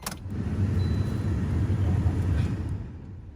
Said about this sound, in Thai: จริงๆแล้วสตาร์ทรถเกียร์ธรรมดานะครับ